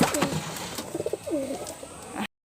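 Pigeons coo inside a pigeon house, soft throaty rolling calls repeating in short bursts with brief pauses, close and moderately loud, with no talking.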